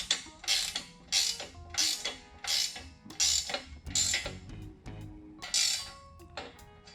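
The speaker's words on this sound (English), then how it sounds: "What I typically do is tighten it all the way, make sure your nut is through that lock" A wrench ratchets as the steering nut on a Lil Rascal minibike is tightened, producing a series of about eight crisp, close ratcheting bursts in an uneven rhythm with metallic clicks between them.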